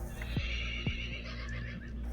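A person imitates a horse whinnying during a tabletop role-playing game session, giving a brief, fairly quiet neigh-like call with no other talking.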